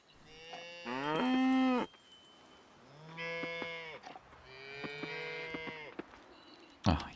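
Cattle mooing in the farming video game Coral Island, three long, loud moos in a row with short pauses between them, heard alone without talk, followed by a brief sharp noise at the end.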